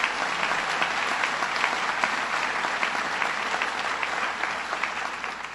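Audience applauding for Congressman Higgins at a Roswell Park Cancer Institute event, a dense, steady round of clapping from a large crowd that fills the space, holding at an even level throughout with no talk over it.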